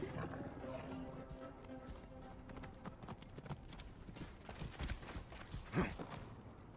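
Horse hooves clip-clop in Assassin's Creed Origins, a quiet irregular walking rhythm with a brief snort, under a soft speaking voice.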